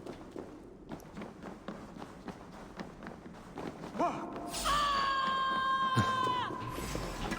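Footsteps in the video game Assassin's Creed Valhalla tread in a quick, steady rhythm for several seconds before sustained droning tones and a soft thump take over.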